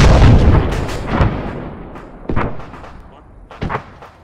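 A heavy boom from a demolition charge in the military game Arma 3, a loud blast followed by a rolling rumble and a few echoing cracks that fade out.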